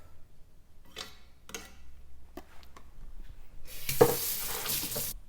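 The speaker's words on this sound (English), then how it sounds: "I want the tofu to be a little crispier than the vegetables on the outside, so I'm going to get this cooking" Tofu frying in a pan for vegan pad thai: a few short crackles and stirring scrapes give way to a loud, steady broadband sizzle in the last second or so, with no talking.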